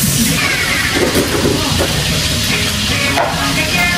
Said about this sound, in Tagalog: Ito na po yung piniprito ko.